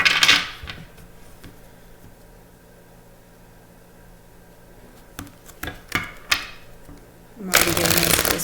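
Oracle cards shuffled by hand in a short riffling burst near the start, a few quieter card flicks in the middle, and a louder, denser shuffle at the end, with soft room tone between.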